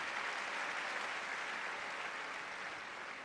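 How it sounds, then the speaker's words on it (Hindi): An indoor audience at a product testimony event applauds steadily, a dense, even wash of clapping hands that holds at moderate volume throughout. "उनके लिए तालियां।"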